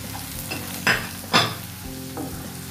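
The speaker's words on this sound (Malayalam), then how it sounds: "ഇതിലേക്ക് ആവശ്യമായ ഉപ്പ് കൂടി ചേർത്ത് നല്ലതുപോലെ ഒന്ന് വഴറ്റിയെടുക്കാം" Spice powders such as Kashmiri chilli, turmeric and garam masala with salt sautéing in a pan for dum chicken masala, a steady low sizzle with two sharp scraping stirs of a spoon, heard alone.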